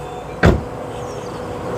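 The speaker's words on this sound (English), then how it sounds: "Oh, what about the door shut sound?" The door of a Jeep Renegade shuts with a single solid, close thud, followed by a quiet hum from the surroundings.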